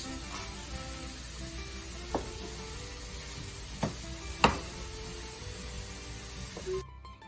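Ingredients being stirred in a hot skillet give a steady, close sizzle, with a few sharp clicks and scrapes of the spoon against the pan.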